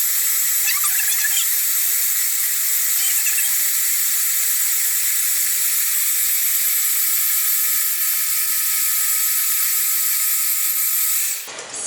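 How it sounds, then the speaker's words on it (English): A stand or hand mixer with a whisk attachment whips cream to stiff peaks, a steady loud high whine and hiss running unbroken, cutting off abruptly at the end. "With a whisk attachment, you're going to whisk this"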